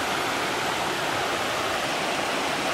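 A shallow river stream in the Doshi area flows steadily, a dense continuous rushing of water heard close and alone throughout.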